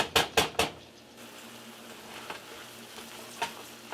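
Ground beef and onion cook in a pan with a soft, continuous sizzle. A few sharp utensil clacks come at the start, and occasional lighter taps and scrapes follow.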